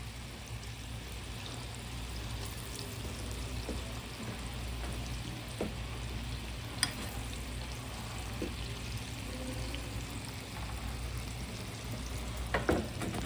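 Plantain slices frying in hot oil for Jamaican home cooking, giving a steady close sizzle with scattered small pops and spits throughout, no talking.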